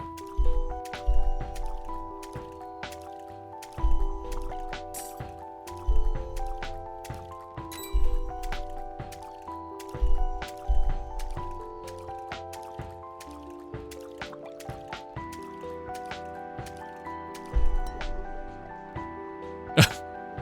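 Water drops splashing and squishing in the indie video game The Greenening, with soft, irregular drip hits sounding under sustained musical tones from the game.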